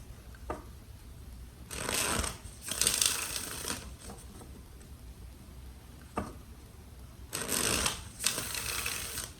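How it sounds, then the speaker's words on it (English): Tarot cards being shuffled, two bursts of riffling and shuffling near at hand with a pause between, plus a couple of faint taps, against quiet room tone. "Let's do 3 more shuffles for Pisces."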